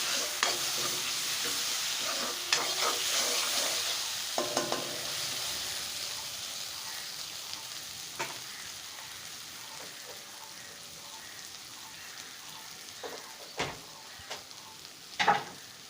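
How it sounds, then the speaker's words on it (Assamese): Soaked and drained rice frying in a pan with ginger-garlic paste for muri ghanta, a steady close sizzle with scattered scraping stir clicks and occasional louder knocks, gradually quieting. "এতিয়া চাউলখিনি ফ্ৰাই কৰি ল'ম"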